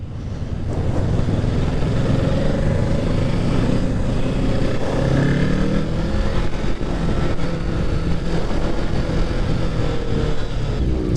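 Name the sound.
Kawasaki Ninja 650 motorcycle riding on and off throttle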